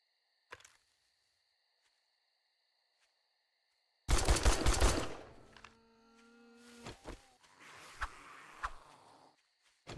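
Gunfire in 7 Days to Die: a single loud burst of rapid shots partway through, followed by a few scattered thuds and hums in an otherwise quiet scene.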